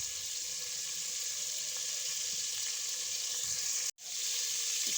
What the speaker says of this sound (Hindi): इसमें बटर मेल्ट हो चुके हैं, मैंने इसमें प्याज ऐड कर दिए।